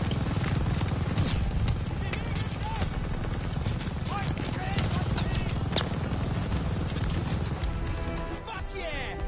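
Sustained gunfire from a Call of Duty Vanguard battle, dense and continuous with sharp cracking bursts throughout, a machine gun among the shots, with shouted voices mixed into the din.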